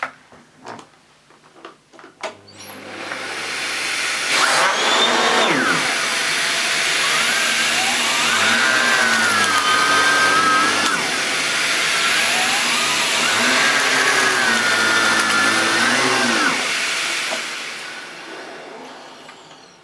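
An AEG Electrolux UltraOne Green cylinder vacuum cleaner with its turbo brush runs at maximum suction. It makes a steady loud roar and whine, with pitch sweeps as the nozzle is pushed back and forth, and winds down at the end.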